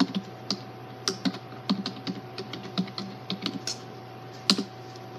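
Someone types an email address on a computer keyboard, giving a quick run of irregular key clicks that sounds close and distinct, with no voices.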